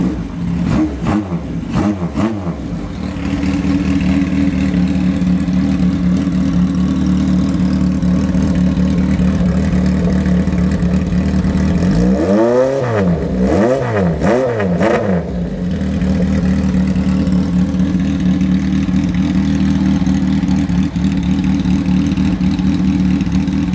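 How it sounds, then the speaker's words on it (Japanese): An old Kawasaki Z1 motorcycle engine starts and settles into a loud, steady idle, with a few brief throttle blips at the start and a cluster of sharp revs midway before it drops back to idling. "そしたらね、早速エンジンかけてみましょう。"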